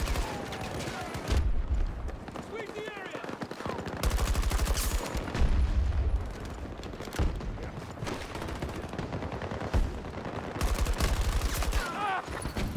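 Dense, continuous gunfire in the shooter game Battlefield 2042, with bursts of automatic fire and loud single shots through a chaotic match, intermittent voices underneath.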